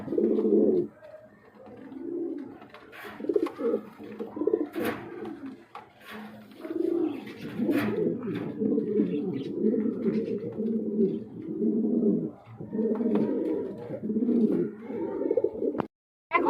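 King pigeons coo in a continuous series of low, throaty calls, close and fairly loud, with a few short bird chirps and faint background voices now and then.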